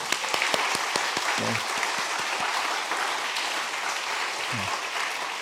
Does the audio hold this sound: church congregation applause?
yes